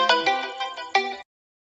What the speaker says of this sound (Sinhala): සමහරවිට කෝල් එකක් ආවා.